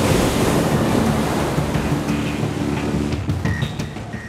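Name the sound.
fast-moving water swirling around rocks in New York bay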